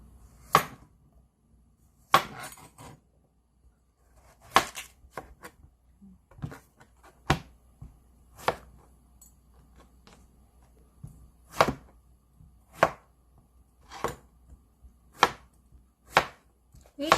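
A knife chopping pumpkin into medium cubes on a cutting board for Korean pumpkin doenjang stew, about a dozen crisp, close chops spaced a second or two apart with quiet pauses between.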